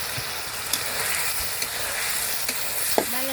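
Chicken meat is stir-fried in a pan while cooking a chicken and jackfruit dish in a village kitchen, giving a steady close sizzle and frying hiss with scattered clinks and a few scrapes of stirring.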